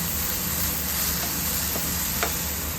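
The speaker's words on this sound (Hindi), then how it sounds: "राजमा के लिए मसाला भून दिया बिना ऑयल के" Spice masala for kidney beans dry-roasting in a pan without oil, giving a steady, close sizzle and hiss with faint occasional stirring scrapes, no voices.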